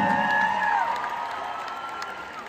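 An audience at a solo pop concert in a sports and concert arena claps and cheers in a dense, distant wash, with a few high whoops and a sustained tone fading out early.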